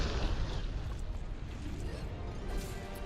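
In the Xeno video game, a dense explosion rumbles loud and sustained throughout, with low roar and crackling debris.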